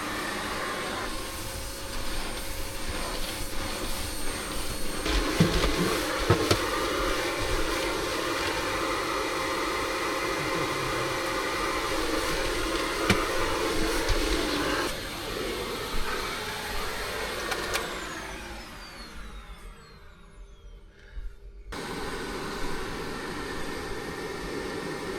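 A Hoover vacuum cleaner running off a VTOMAN Jump 2200 portable power station, a loud steady whooshing roar that holds for most of the time, then cuts out abruptly and briefly restarts near the end.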